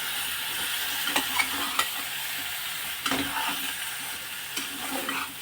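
Masala being stirred into eggplant (vangi bhaji) in a pan, a soft continuous sizzle with intermittent scraping and stirring strokes, fairly quiet and close, with no voices.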